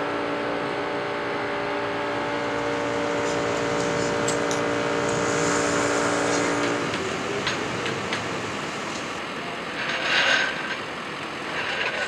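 A Toyota 86 race car's engine runs steadily while the car sits up on a jack, a sustained droning tone with a faint rise near the end and no talking.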